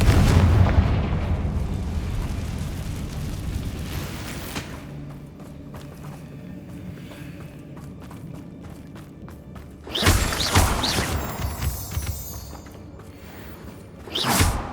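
In the Hogwarts Legacy game, a cast Confringo blasting spell sets off explosions: a heavy burst at the start, a quieter stretch of rumble and creaking debris, then two more loud crackling blasts, close and forceful.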